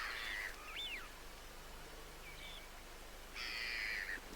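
Crows call through fog over the Humber estuary, a few distant, faint caws and croaks spaced apart over a quiet low hiss of open water.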